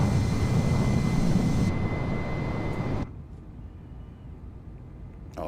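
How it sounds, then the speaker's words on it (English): F-15 and Eurofighter jet engines in Microsoft Flight Simulator roar loudly as a broad, steady rumble, then the sound drops abruptly to a much quieter hum partway through. "The F-15 and the Eurofighter are pretty loud at the moment."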